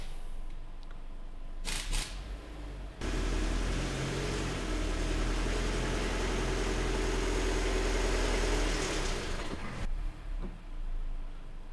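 Engine of a 2014 Kia Forte with 58,000 miles, idling while lightly power braked, a steady low hum that dips and nearly stalls before recovering; a couple of clicks and brief noises bracket the drone, with no talking.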